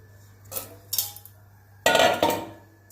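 Cauliflower pieces are dropped into a metal pressure cooker, giving a few close clattering knocks and rustling tumbles in separate bursts with short pauses between them and no speech.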